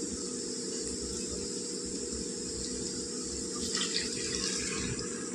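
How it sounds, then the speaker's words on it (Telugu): Water pours steadily into a pan of soft-fried onions while making telagapindi curry, a continuous close, even rushing splash with no talk over it. "ఇందులో మనం నీళ్ళు వేసుకుందాం"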